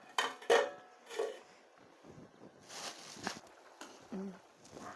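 A spoon knocks and scrapes inside a metal pot of mutton curry in a few scattered clinks and stirring scrapes, close and fairly quiet, with no talking.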